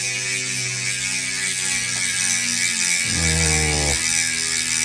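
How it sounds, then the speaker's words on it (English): A Nukeproof Horizon V2 Pro mountain bike wheel spins freely with a steady, close buzzing whir, swelling briefly into a louder tonal hum near the end as the wheel is cranked harder. "Let's give that a proper crank. I love the sound of this wheel."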